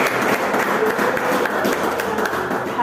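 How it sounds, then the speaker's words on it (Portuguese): A church congregation claps together through a worship service, a dense steady patter of many hands that fills the room, with faint voices mixed in. "E mais palmas para Jesus"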